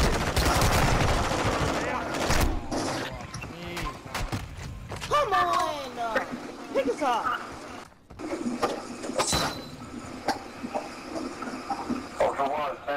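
Gunfire in the video game DMZ, loud bursts of automatic and single shots crackling in rapid clusters, mixed with in-game effects and overlapping excited voices talking throughout.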